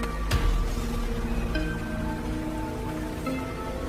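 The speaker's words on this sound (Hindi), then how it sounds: "बारिश तेज होती जा रही है।" Steady rain falls in a cartoon animation, a continuous broadband hiss with a faint tonal hum and a sharp thud near the start, holding even throughout.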